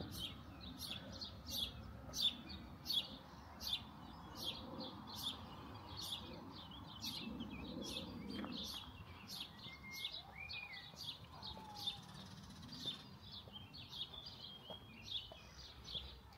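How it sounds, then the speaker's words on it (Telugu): Small birds chirp and tweet steadily in a green German village, with quick, repeated high calls from several directions over a quiet outdoor background. "ఇట్లా బాగా గ్రీనరీ ఉండి పక్షుల కిలకిలా రావాలి వినబడుతుంటే ఎంత ప్రశాంతంగా ఉంటుంది తెలుసా మనసుకు"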